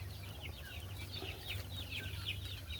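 Chickens and young chicks at a backyard coop peep and cluck in quick, overlapping bursts, faint and continuous over a low steady hum.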